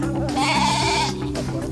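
Sheep that were mauled by dogs and are being gathered for a vet inspection bleat loudly and close, a wavering cry over a steady background hum.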